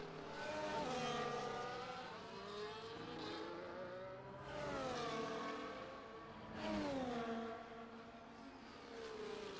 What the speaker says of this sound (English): Welsh Sponge starting a flying lap in the Mercedes